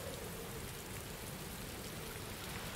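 Steady rainfall in the Lord of the Rings: Gollum video game, a dense, even hiss of falling drops and spatter on surfaces continuing unbroken throughout.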